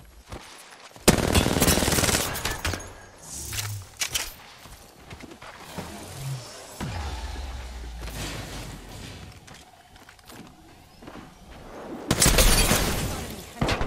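PUBG gunfire from a video game: sharp bursts of rapid automatic shots, loud at the start and again near the end, with scattered single shots and quieter stretches between them.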